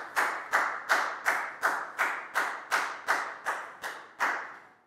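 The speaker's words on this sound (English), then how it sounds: "Big round of applause for Lakgao, please, guys." About eleven loud, evenly spaced claps in a steady slow rhythm from a Year 4 class, each ringing briefly in a reverberant classroom, with no voices.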